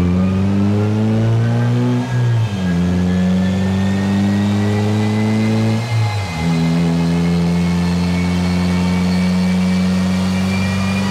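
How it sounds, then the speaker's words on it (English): Subaru WRX fitted with a big BNR turbo, revving on a dyno: a loud, sustained engine tone climbing steadily, with two brief dips as gears change before it pulls up again. "let's get this car strapped down to the dyno and let's see what it makes"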